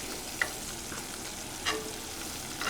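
Bacon frying under moderate heat in an Ozark Trail cast iron pan, a steady soft sizzle with a few brief louder crackles and pops, heard close and alone.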